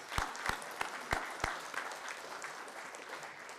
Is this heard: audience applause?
yes